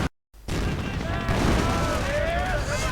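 Rattling light machine gun fire from Grenadier squads in a World War II real-time strategy game, continuous bursts layered over other battle noise with a clear whistling sweep, following a brief cut to silence.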